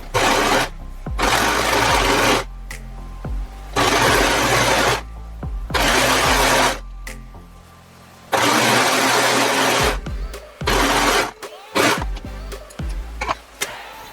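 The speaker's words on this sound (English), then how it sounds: "So you just put both pieces together and stitch straight down." A sewing machine stitches two pieces of scuba fabric for a pencil skirt together in several loud, steady bursts of whirring, with short pauses between runs.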